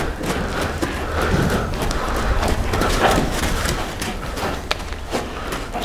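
A young colt on its first ride walks forward, hooves clip-clopping steadily on the ground under constant outdoor background noise.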